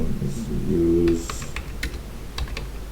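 Quick, light keystrokes on a computer keyboard tap out commands at a terminal during an ethical hacking exercise, irregular clicks close up over a low hum.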